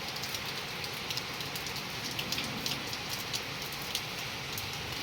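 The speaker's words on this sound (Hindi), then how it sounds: "वर्षा वर्षा वर्षा" Rain falls steadily and heavily, a continuous dense hiss with scattered sharper drop patters, close and loud with no voices.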